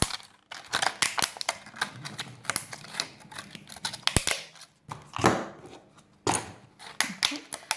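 Scissors snip petals into a plastic bottle in quick runs of sharp, crisp cuts with brief pauses, close and clear, while a voice talks over some of the cutting.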